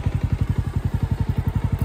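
A rented motorcycle ridden in North Sikkim on a freezing trip toward Lachung, its engine thumping in fast, even, close pulses with no voices.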